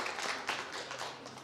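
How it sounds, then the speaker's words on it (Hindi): Audience clapping to welcome guests at an annual celebration of a cooperative society, a short burst of steady crowd applause heard from a distance. "एक बार जोरदार तालियों से उनका स्वागत।"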